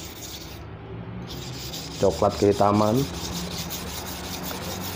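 A rusty, corroded slaughter knife is ground against a coarse natural sharpening stone, giving four short, gritty scraping strokes in close succession. Someone speaks briefly beside the grinding.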